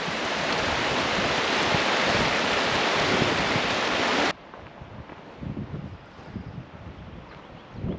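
A creek or mountain stream in the Colorado backcountry near Ouray and Silverton, a loud steady rushing of water that cuts abruptly to a quieter, more distant flow with gusty rumbles.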